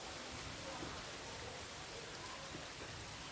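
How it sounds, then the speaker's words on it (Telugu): Rain falls on home garden plants on a summer day, a faint, even hiss of drops that continues without pause. "అందుకని మీకు తెలుస్తుందా వర్షం పడుతుంది అక్కడ."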